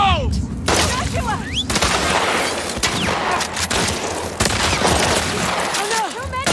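Rifle fire in the game The Last of Us Part II, a loud, dense barrage of shots and crashing impacts with short rising tonal sounds layered in, continuous and close.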